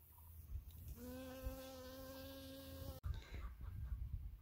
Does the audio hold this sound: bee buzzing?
yes